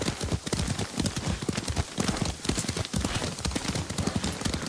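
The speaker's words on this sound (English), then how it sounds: "Lord Sakai taught me to ride a horse" Horse hooves clip-clop steadily at a trot while riding in the video game Ghost of Tsushima, a dense rhythmic patter close up and loud, with no talk over it.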